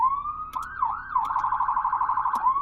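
A Whelen siren from an Alpha12M mechanical siren setup on an emergency vehicle sweeps up and wavers, then breaks into a fast pulsing yelp, loud and close with no voices.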